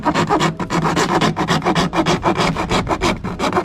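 A hand hacksaw cuts through the fender of a Dodge Dakota in a steady rasping rhythm of quick back-and-forth strokes, loud and close, with no talking.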